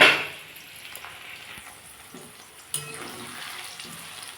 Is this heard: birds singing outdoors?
no